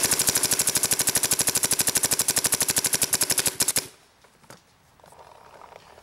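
A Lurker paintball marker fires a fast, even string of about forty sharp pops for nearly four seconds, then stops abruptly, leaving quiet handling noises and a few soft knocks.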